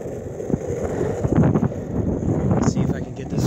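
Steady gusting wind rushes and buffets the microphone while skating outdoors in Virginia, a loud broadband roar with a low rumble that swells and eases throughout.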